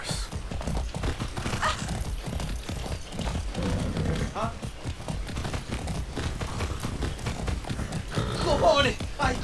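Galloping hooves of a horse in the video game Far Cry 6 drum in a steady, close rhythm all the way through, and a whinny breaks out near the end. Voices from the game can be heard underneath.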